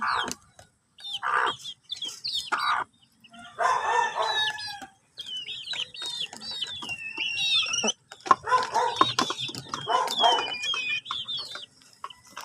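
Chickens cluck and a rooster crows repeatedly from inside a small cage, with bursts of calls close by, separated by short quiet gaps.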